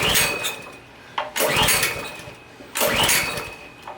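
Small engine with gas poured into the carburetor cranking in three separate bursts, each catching briefly and sputtering before dying away, with quiet gaps between the attempts.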